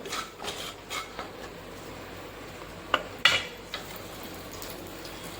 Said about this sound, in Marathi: थोडी हळद आणि थोडंसं असं मीठ घालून आपण याच्यात अंडे फ्राय करून घेणार आहोत